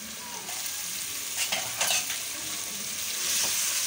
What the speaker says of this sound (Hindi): अब हमारी चिकन अच्छी तरह भून रही है